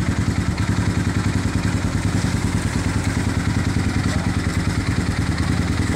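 A Honda XR 200 motorcycle engine idles steadily after a cold start, a loud, close, even thumping putter with a mechanical clatter that holds throughout.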